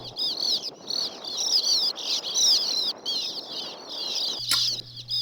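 Sand martins circling past nest holes in a breeding colony give a near-continuous stream of high chirping and twittering calls, fairly close, with a brief sharp noise near the end.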